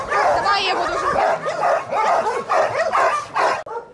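Stray dogs at an animal shelter barking, yipping and whimpering continuously, several animals close by and loud throughout the short stretch.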